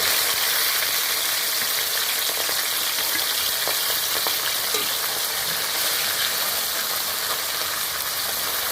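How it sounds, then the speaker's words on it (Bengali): Aamudi fish frying in hot oil in a wok, a steady, dense hiss and crackle of sizzling that holds evenly throughout with no voices. "এবার আমি মাছগুলো তেলের মধ্যে দেব।"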